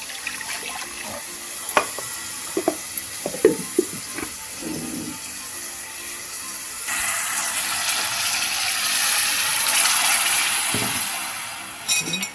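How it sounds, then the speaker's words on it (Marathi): Cooked mung beans and ground spice paste go into a pan for a traditional Goan dish, with scattered clanks and scraping stirring sounds, then a longer wet hissing, sizzling stretch at moderate level. "शिजलेले मूग असतात ते घालूया त्याचबरोबर वाटलेले वाटण दगदग घालूया"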